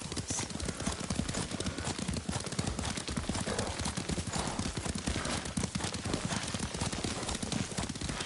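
Horse hooves clip-clop in a fast, steady galloping rhythm as a rider travels in the video game Ghost of Tsushima, close and continuous with ambient game sound beneath.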